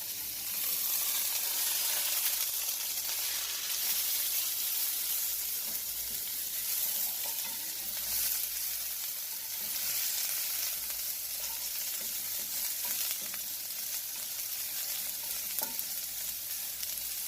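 Carrots sizzling in hot oil in a pan for Jamaican escovitch fish, a loud, steady, close frying hiss with occasional soft stirring scrapes throughout.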